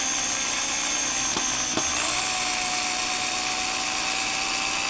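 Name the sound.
power tool driving long bolts on a longboard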